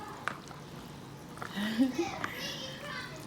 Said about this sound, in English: I know y'all hear my twins back there. They are fussing.